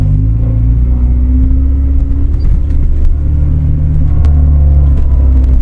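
A running Honda CRX del Sol with a gearbox fault, heard as a steady close engine rumble and drone with faint whirring from underneath the car, continuous and without talking.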